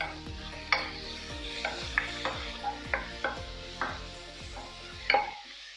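Crushed garlic and ginger are stirred in a pan with a spoon, giving a series of regular scraping strokes about every half second over a faint sizzle, with a louder clack near the end.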